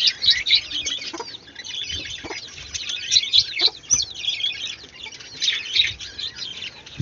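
Chickens cluck and chirp close by in a yard with ducklings, a busy run of short, overlapping calls with scratchy rustling underneath and no talk.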